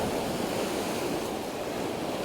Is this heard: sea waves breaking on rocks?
yes